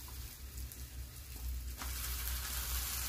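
Broiler chicken pieces, mostly legs, fry in a cooked spiced masala, a steady close sizzle that swells after the meat goes in, with no talk.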